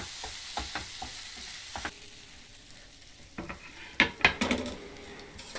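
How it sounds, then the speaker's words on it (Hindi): Matar kachori filling of mashed green peas roasts in a pan, a soft sizzle broken by scattered scraping clicks of a spoon stirring against metal, with a brief cluster of sharper clatters near the end. "और इसको कम से कम 2-3 मिनट के लिए अच्छे से रोस्ट करेंगे।"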